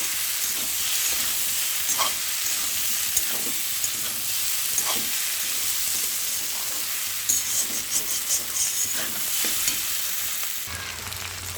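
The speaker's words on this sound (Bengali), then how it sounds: "তো এখন ভেন্ডিগুলো দিয়ে দিলাম। তো ভালো করে এটাকে কষাতে হবে" Okra frying with shrimp in a hot pan, a loud continuous sizzle with occasional scraping stirs and a few popping crackles near the end, close and steady throughout, no voices.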